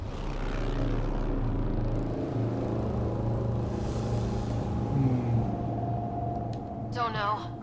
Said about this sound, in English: Lightning, I guess.